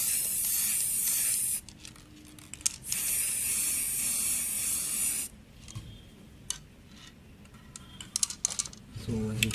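Clear coat is sprayed from an aerosol can onto a car fog lamp in two long hissing bursts. Quieter clicks and handling noises follow near the end.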